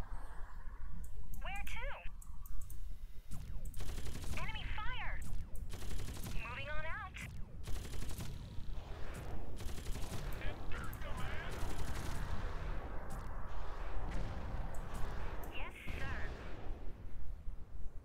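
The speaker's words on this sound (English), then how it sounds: "Enemy fire." Sustained enemy gunfire and artillery-like bursts in the strategy game Earth 2160, dense and continuous throughout, with short voice lines heard over the barrage.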